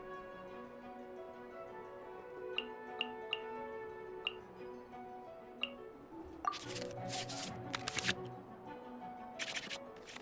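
Digital cards shuffle in the Genshin Impact Genius Invokation TCG card game: a few soft ticking clicks over a faint musical background, then a quick flurry of papery swishes and shuffling snaps near the end.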